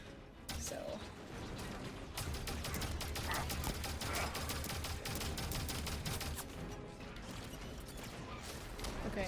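Gunfire in the Halo 5 Guardians video game: a dense, continuous stream of rapid automatic shots with mechanical clatter and impacts, loud and sustained throughout, with a faint voice talking underneath.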